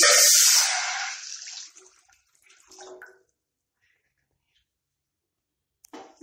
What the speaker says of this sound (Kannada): ಇದು ಒಂದು 2 ಲೋಟದಷ್ಟು ನೀರಿದೆ, ಇದನ್ನ ಹಾಕ್ತಾ ಇದ್ದೀನಿ.